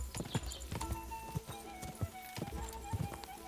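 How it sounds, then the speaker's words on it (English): A horse gallops in a medieval prison-escape video game, rhythmic hoof clip-clops in quick regular beats, close and clear against a faint background score. "This horse is way too fast."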